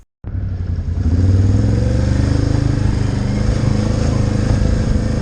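A Can-Am Outlander 650 ATV engine drives over rocks in work mode, starting abruptly after a brief silence and holding a loud, steady rumbling drone with slight revving swells throughout, close to the microphone.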